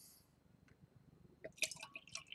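Lost Coast Fogcutter double IPA pouring and fizzing into a glass at a 45-degree angle, starting faintly then rising into a brief burst of splashy, bubbly pouring toward the end.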